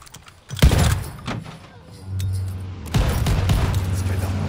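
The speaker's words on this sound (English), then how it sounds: "Friendly bombing run inbound." Friendly bombing-run explosions in a video game: sharp booming blasts and bursts of gunfire crack out over a rumbling battlefield, loud and close, with a voice talking at moments.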